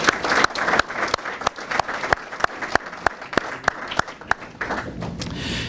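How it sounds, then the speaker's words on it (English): Applause comes from the audience at a village state-of-the-village chamber event, a thinner crowd clapping with distinct sharp individual claps standing out near the microphone. "Give them a round of applause, please."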